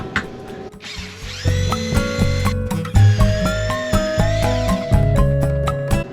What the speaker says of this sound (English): I'm going to use this crazy powerful drill just because I have it, but you can do this with a regular drill.